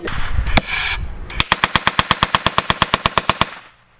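A machine gun fires during filming of a WWI battle reenactment. A noisy opening is followed by a steady rhythmic burst of about fifteen sharp, evenly spaced shots that are loud and close, then the firing stops abruptly.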